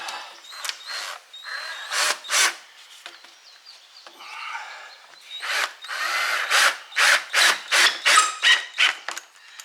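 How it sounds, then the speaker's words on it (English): A power tool with a 10mm socket tightens a hose clamp on a 2003 Mitsubishi Galant, sounding as a series of short whirring bursts, a few scattered at first, then a quick rhythmic run of pulses near the end, close up and alone. "10mm on the hose clamp."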